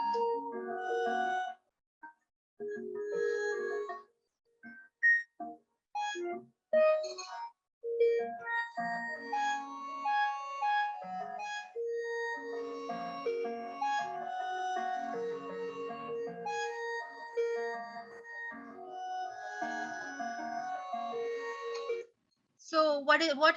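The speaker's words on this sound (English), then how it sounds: "It is the sonification of the COVID-19 virus genome, and it'll be playing soon." Sonification of the COVID-19 virus genome, a stream of bright chime-like synthesized tones in shifting melodic patterns, played continuously with a few brief pauses and no speech over it.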